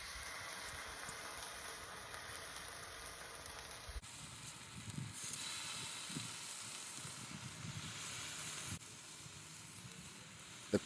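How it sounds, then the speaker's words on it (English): Bacon sizzling on a Blackstone griddle during a breakfast cook, a steady close crackling hiss with small pops and spits, no voices. "so we can listen to the sizzle."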